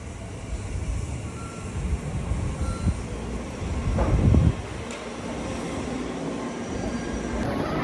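Steady low rumble of a train in motion in Japan, with a brief louder clank midway and a faint high tone near the end.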